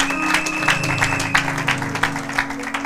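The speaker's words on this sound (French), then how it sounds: "Acclamez pour la gloire de notre Dieu." Church congregation applauding, steady rhythmic clapping from a crowd over a sustained organ or keyboard tone, moderately loud and continuing throughout.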